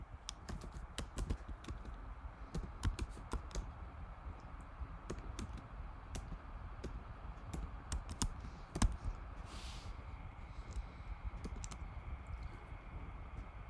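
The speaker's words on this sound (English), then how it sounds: "we'll have to just type this out" Steady typing on a computer keyboard fills the clip, with continuous close key clicks in an uneven rhythm over a low background hum, with no voices.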